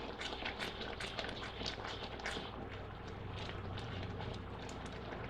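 Peanut brittle syrup boiling in a pot, a steady close crackle of popping bubbles with scattered sharper pops, continuous and fairly quiet throughout.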